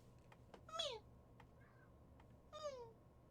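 A white cat gives two clear, close meows about two seconds apart, each a short falling cry, over a quiet room with a few soft clicks.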